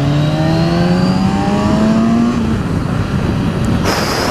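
Kawasaki Z1000SX motorcycle accelerating hard through the gears on a road test, engine note rising steadily and loudly close to the microphone, then dropping into wind rush as it shifts.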